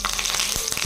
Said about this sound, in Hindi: मैं दो लाल मिर्ची डालूंगी सूखी